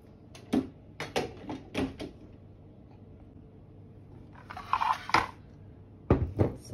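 Chocolate chip cookie dough made with olive oil and chopped dark chocolate is mixed in a bowl, giving a series of close scrapes and knocks of a utensil against the bowl in uneven bursts, with no talk.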